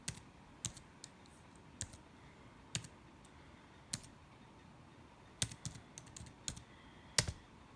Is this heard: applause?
no